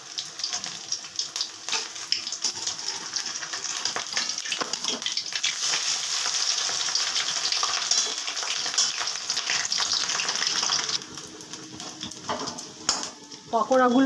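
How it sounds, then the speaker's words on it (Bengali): Cabbage pakoras deep frying in oil in a wok: a continuous bubbling, sizzling hiss running steadily for the whole stretch, with a few clinks and stirring sounds toward the end and a voice speaking over it. "বাঁধাকপি পাকোড়াগুলো আমি কড়াতে ছেড়ে দিয়েছি, এখন ভাজা হচ্ছে।"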